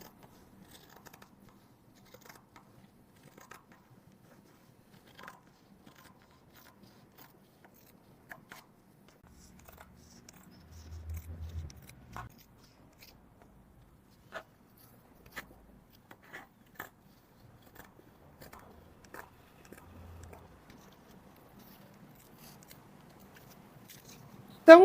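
Scissors snipping a small craft ear out of material, scattered soft cuts with a brief burst of rustling handling midway, quiet and close in an otherwise still room, no talking.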